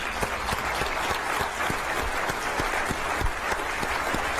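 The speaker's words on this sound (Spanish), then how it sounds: "Empecemos con un aplauso porque estamos de vuelta." A crowd applauds steadily, a dense wash of clapping hands sustained at an even level throughout.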